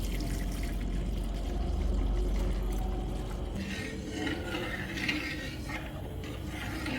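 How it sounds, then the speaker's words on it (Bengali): One litre of Amul milk pours into a pot in a steady liquid stream, a continuous close gurgle with a low rumble underneath, then thinner splashing toward the end; no one talks over it. "দুধটা ঢেলে দিচ্ছি।"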